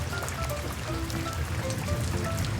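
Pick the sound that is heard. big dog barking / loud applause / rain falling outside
rain falling outside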